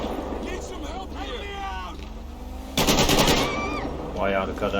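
Machine gun fire in the video game GTA 5 during a police traffic stop shootout, a short burst of rapid shots under game noise, with someone talking throughout.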